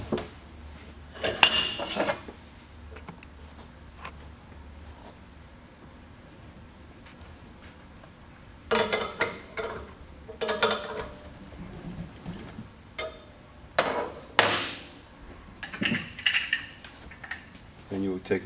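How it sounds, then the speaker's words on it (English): Metallic clinks and ratcheting scrapes come from tightening a collet nut on a high-pressure tube holder clamped in a vise, in irregular bursts with quiet gaps, close by in a workshop. "put it in your vise and tighten up the collet nut"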